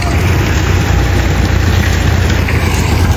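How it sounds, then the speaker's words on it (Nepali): A tractor engine idles steadily and loudly close by at a road construction site, a continuous low rumble with no break across the few seconds. "एउटा खन्याउँदैछ र अर्को ट्र्याक्टर फेरि आइपुग्यो"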